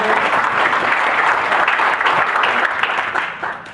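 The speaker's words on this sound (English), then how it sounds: "Just give an applause to everyone." An audience at a keynote speech on anti-corruption applauds, steady full clapping from many hands that fades slightly toward the end, no speech over it.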